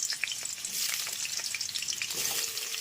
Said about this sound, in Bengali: এই পাশে অলরেডি তেল আমার গরম হয়ে গেছে, আলুগুলোকে তার জন্য ছেড়ে দিলাম